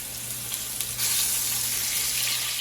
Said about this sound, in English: once the oil is hot, you just want to add the swordfish.